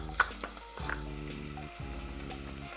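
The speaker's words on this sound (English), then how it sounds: "Just saute that for a little bit" Chopped onion, carrot and celery sizzle steadily in bacon fat in a pan, a close, even crackle with occasional stirring taps.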